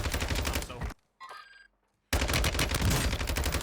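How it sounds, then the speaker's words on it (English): Heavy automatic gunfire in the Warzone 2.0 shooter, the player being hit by shots from behind: loud dense bursts, a short gap with faint ringing tones, then another sustained volley. "I'm getting shot in the back."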